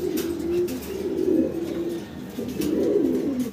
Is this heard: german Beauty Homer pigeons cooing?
yes